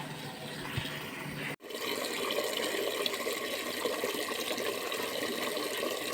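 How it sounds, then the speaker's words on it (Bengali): Tap water runs steadily, filling containers for bathing at a home without piped supply, a continuous close splashing rush with a brief interruption early on, then unbroken flow, with no talk. "স্নানের জলগুলো প্রায় ভরিয়ে এল"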